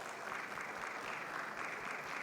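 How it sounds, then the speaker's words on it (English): Continuous, even applause from a large audience at the SME100 SAMENTA 35th anniversary event, honouring a guest with a round of clapping. The sound is steady, moderately distant and unbroken throughout. "give Datuk Halim a round of applause"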